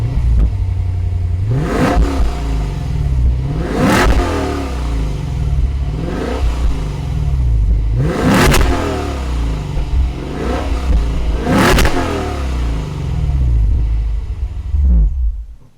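A Lexus IS 500 V8 engine revs sharply five times in a steady rhythm, each roaring burst dropping back to a deep rumbling idle, close and loud.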